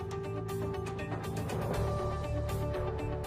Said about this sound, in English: Now loosen the fixing elements and lift the sink out of the cutout again.